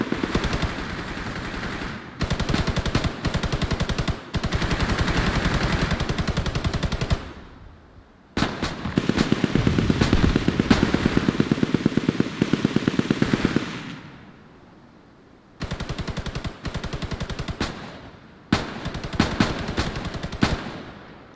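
Video game gunfire played through a SteelSeries Arctis 5 headset: loud, rapid automatic bursts in several long stretches, separated by brief silent gaps, with no talking.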